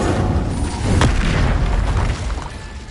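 A fire spell cast in the video game Hogwarts Legacy: a loud, booming burst of flame that flares sharply near the one-second mark over a dense, rumbling background, then slowly dies away.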